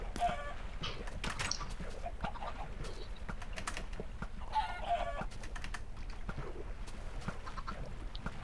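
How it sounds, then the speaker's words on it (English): Chickens clucking in the Minecraft video game, short blocky clucks scattered through a busy mix of game sounds and clicking, moderately loud with no talk. "Oh, chicken."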